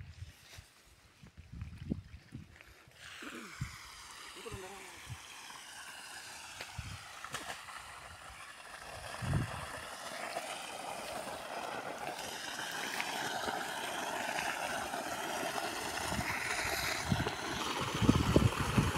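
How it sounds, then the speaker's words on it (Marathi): A 7.5 HP solar-powered well pump forces water out under pressure, a steady rushing gush that builds after a few seconds and continues loudly to the end, with occasional knocks and clatter near the outlet. "प्रेशर आहे, खूप चांगलं पाणी मारत आहे"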